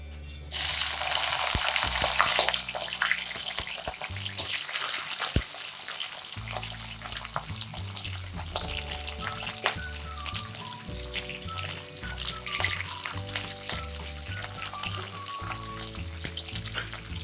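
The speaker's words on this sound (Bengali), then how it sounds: "এবার আমি কেটে রাখা ফুলকপিগুলোকে ভেজে নেব।" Chopped cauliflower drops into hot refined oil with a loud hissing burst that settles into a quieter ongoing sizzle, while background music plays through most of the stretch.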